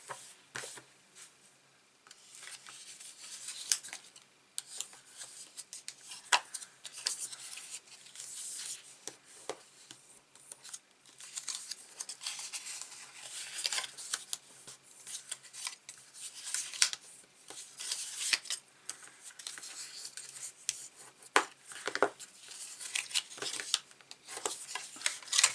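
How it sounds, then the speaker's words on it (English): Paper is folded along a score line and burnished flat, giving a long stretch of soft, close rubbing and scraping strokes with occasional sharper crackles, steady and unaccompanied by talk, for a handmade Christmas advent calendar. "now you're going to fold and burnish your score"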